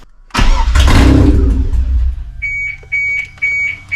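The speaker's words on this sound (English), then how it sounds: "Now we've set the car alarm off." A BMW E30 engine starts with a loud rumble, then its car alarm begins a repeating electronic beeping tone in short regular pulses, close and prominent.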